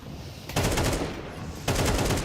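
Gunfire from a Counter-Strike match, pistol rounds, cracking out in two loud, rapid bursts of closely spaced shots separated by a brief lull.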